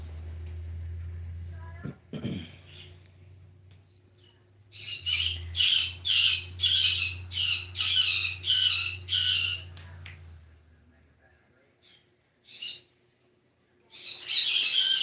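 Upset pet birds indoors let out a run of loud, harsh squawks in a rapid burst of about eight calls, then scattered single squawks and a final outburst, with a low hum underneath.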